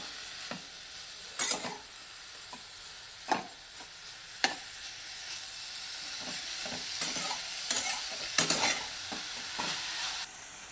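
A rustic vegetable dish being stirred and mixed in a hot pan, with a gentle sizzle underneath and several distinct scraping clacks of a spoon against the pan, quiet and close.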